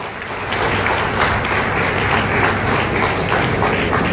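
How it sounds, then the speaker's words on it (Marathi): An audience at a book launch event breaks into loud, sustained applause after a brief quieter start, a thick wash of many clapping hands lasting several seconds. "जोरदार टाळ्या."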